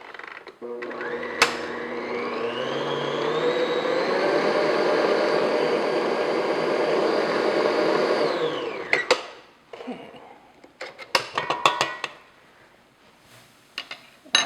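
Electric mixer beating vanilla extract and ground cinnamon into a bread pudding mixture, whirring steadily and loudly for several seconds with rising pitch before cutting off, followed by scattered clinks and knocks.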